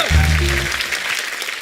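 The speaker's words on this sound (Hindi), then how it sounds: "इस बात के लिए तालियां बनती हैं।" Studio audience applause on The Kapil Sharma Show, a Hindi TV comedy program, rising right after a brief spoken line and continuing as a steady, diffuse wash of many hands.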